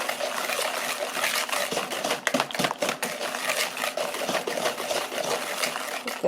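A spoon stirs pecans in a bowl for a pecan pie filling, giving a steady scraping, clicking rattle that runs continuously with brief louder clatters, close by and with no talking.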